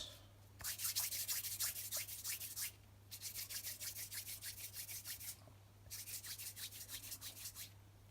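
Dumpling dough for a vegan Jamaican ital soup is rubbed between the palms, giving three sustained bursts of close, rhythmic rasping with brief silent breaks and no talk.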